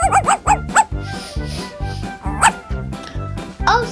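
A dog barks in a quick series of sharp, close yips and woofs, loud and clear with no talking over them.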